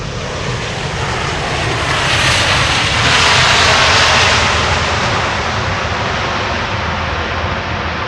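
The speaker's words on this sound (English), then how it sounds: "Spool up those reversers, please." A landing aircraft spooling up its thrust reversers at Amsterdam Schiphol Airport, heard as a loud, steady jet roar that swells to a peak midway and holds, with no talk.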